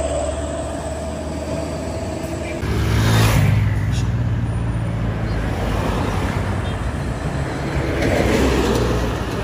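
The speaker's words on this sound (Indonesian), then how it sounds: "Lalu lintas hari ini masih sangat padat karena pengguna jalan ingin" Heavy road traffic during the post-holiday return rush on a highway, with loud engines and tyre roar swelling as vehicles pass close by, a big engine surging near the middle of the stretch, continuous and dense throughout.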